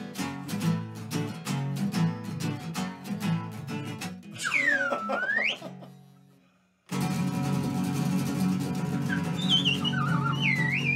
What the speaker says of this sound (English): you were missing a Woody Woodpecker slide whistle